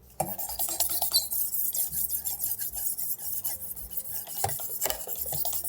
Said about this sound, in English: we're gonna go to this ceramic band right here, and this is gonna be the absolute finest and just gonna take off any burr on the knife